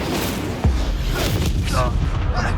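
A fiery Incendio spell blast in Hogwarts Legacy on Xbox Series X, a sudden booming burst that rolls on as a roaring rumble amid battle noise, with brief voices around it.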